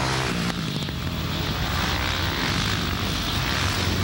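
Racing motorcycles, including a Kawasaki, on an ice track at a two-hour ice race: a loud, steady engine roar close by, blended with the buzz of several bikes running at once, with no talking.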